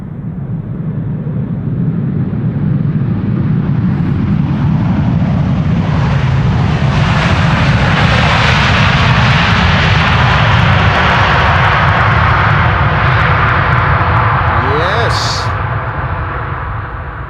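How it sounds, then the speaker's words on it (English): A Delta Air Lines airliner's jet engines, just arrived from Minneapolis, roar loudly and continuously at an airport, a broad steady rumble that swells and then eases slightly. "This is Delta Airlines Flight 162. Having arrived from Minneapolis."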